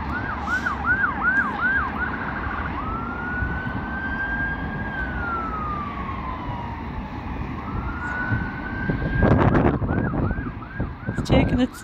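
An ambulance siren passing near Carlisle Castle, yelping at first, then a long rising and falling wail before it yelps again, loud over road traffic, with a brief rumble of a passing vehicle toward the end.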